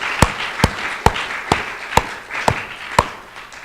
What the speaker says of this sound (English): let's give a round of applause to the festival organizers